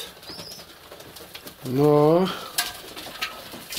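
Pigeons in winter give a close, clear cooing call midway, with light flutters and small knocks around it while someone speaks Russian briefly.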